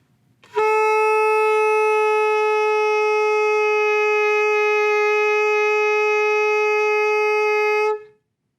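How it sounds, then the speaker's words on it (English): A single steady, buzzy reed tone from air blown through a saxophone mouthpiece and neck alone sounds loud and unbroken for about seven seconds, then cuts off. "we're going to blow a lot of air through the mouthpiece into that little hole between the reed and the mouthpiece"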